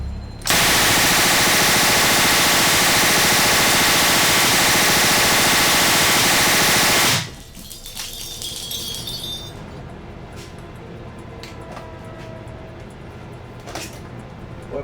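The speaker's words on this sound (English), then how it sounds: "getting ready to test fire one of the Thompsons" A Thompson submachine gun test-fired on a film set roars in one long continuous automatic burst for about seven seconds, then cuts off, leaving a quiet scene with faint clinks of spent casings.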